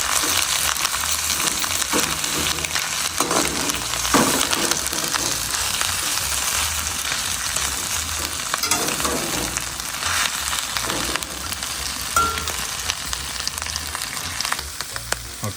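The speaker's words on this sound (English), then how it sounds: "So we are sauteing some onion in the olive oil, and now we're gonna toss the" Cecina sizzles and fries with onion in hot olive oil for an Aporreadillo in Michoacán style, a dense, steady crackle held close and loud throughout, with occasional stirring shifts.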